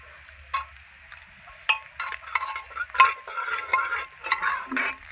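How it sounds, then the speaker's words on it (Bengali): A ladle stirs turmeric into cooked chana dal in a pressure cooker, with sharp metallic knocks against the pot and soft scraping and sloshing, close and intermittent, with a faint sizzle underneath. "এই দেখুন একটু ঘেটে হলুদ দিয়ে দিলাম।"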